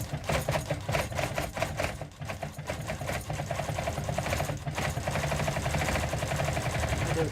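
A sewing machine stitches a spiral zip in fabric, running steadily and loud throughout with a rapid mechanical chatter, a brief dip partway before resuming at full pace.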